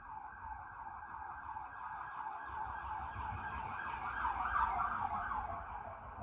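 An emergency vehicle siren wails through a downtown street, fairly distant and slowly growing louder as it approaches. The warbling tone is steady over a low rumble of traffic, and no one speaks.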